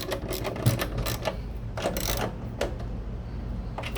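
A part is tightened by hand during installation of a CE-1085 nitro flush kit, giving close, quick ratcheting clicks and mechanical rattles in short bursts over a low hum.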